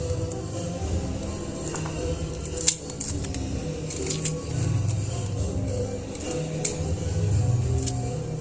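Garlic cloves being chopped into small pieces with a knife for a homemade tomato sauce for pizza and pasta, giving soft, irregular cutting clicks, a few sharper taps over a steady low kitchen background.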